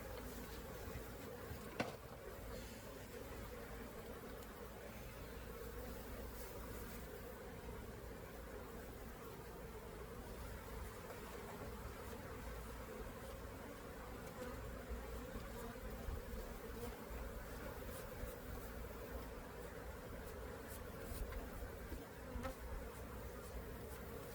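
Dense, steady buzzing of honey bees swarming around a hive infested with small hive beetles, a continuous close drone with no talk.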